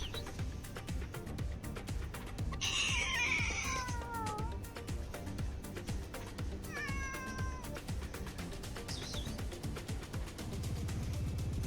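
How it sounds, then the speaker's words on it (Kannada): Cats on a street in Qatar meow in a couple of drawn-out, wavering calls and a shorter cry, heard fairly close against a constant background hum. "ಬೆಕ್ಕುಗಳು ಇದಾವ."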